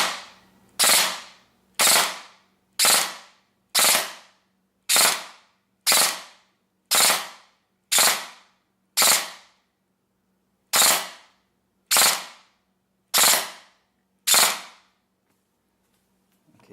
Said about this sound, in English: here's the burst fire